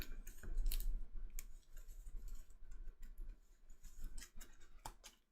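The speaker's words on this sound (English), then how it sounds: "So let's shuffle things up." Cards from the DC Deck-Building Game are shuffled by hand, with crisp riffling bursts and soft papery slides and taps in irregular clusters, close and fairly quiet with no talking.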